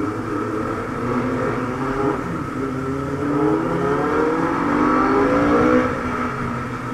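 A Benelli 600i motorcycle engine drones steadily and swells as the throttle is opened out on the road, a continuous rising and falling rev heard up close without talk.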